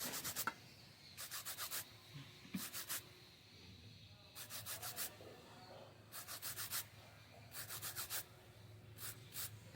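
Half-peeled Nepali rudraksha fruit rubbed by hand to strip its husk, giving bursts of brisk, gritty scraping strokes in quick groups of four or five, separated by short pauses, close and fairly quiet.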